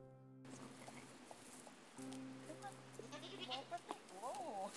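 Cashmere goats on a mountain farm in Tazewell bleat several times in wavering, quavering calls, close and fairly loud, with other farm background and faint talk around them.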